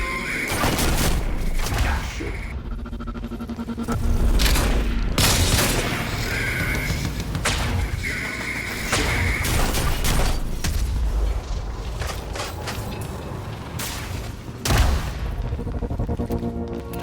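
Firefight in Quantum Break, with dense, loud bursts of gunfire and crashing explosions layered continuously, repeated heavy impacts and a sharp blast near the end.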